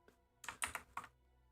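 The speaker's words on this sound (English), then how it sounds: "What keyboard do you have? I have no idea, but it makes nice sounds and it's nice to type with." A few quick keystrokes on a computer keyboard, four or so crisp clicks close to the mic within a second, then quiet.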